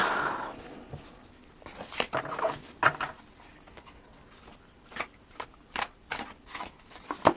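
Tarot cards are shuffled and mixed by hand without riffling, producing soft irregular papery swishes and taps in short bursts, close and quiet.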